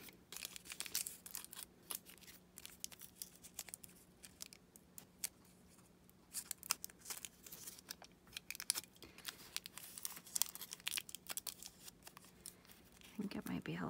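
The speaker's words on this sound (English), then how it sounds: "Wrapped in some foil. See if we can get all of the edges to be defined." Aluminum foil being wrapped and pressed over paper for steampunk ephemera in an altered book, quiet crinkling and scratchy rustles in irregular bursts against a steady low hum, with a person talking faintly at times.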